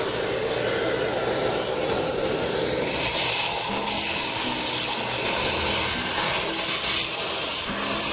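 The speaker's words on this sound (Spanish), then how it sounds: "Y luego con la aspiradora lo vamos a..." A vacuum cleaner runs continuously while cleaning a car's interior, a loud, steady airy roar and hiss with slight shifts in pitch as the nozzle moves.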